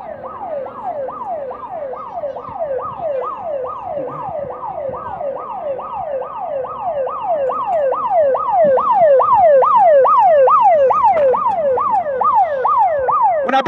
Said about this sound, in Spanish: nosotros no ponemos la sirena por gusto